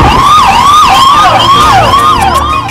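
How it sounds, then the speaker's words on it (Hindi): A loud, close ambulance siren wails up and down continuously, its rising and falling pitch sweeping over a rumbling traffic background. "एम्बुलेंस!"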